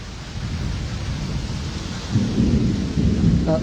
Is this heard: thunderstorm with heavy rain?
yes